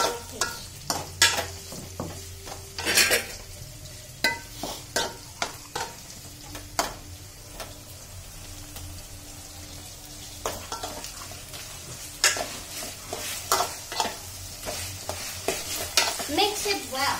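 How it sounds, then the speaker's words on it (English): Ginger garlic paste frying in a pan for vegetable biryani: a bright crackling sizzle with frequent spoon scrapes and metallic clinks, a few louder stirring bursts, near and busy, with no voices. "Fry nicely, let's add the ginger garlic paste."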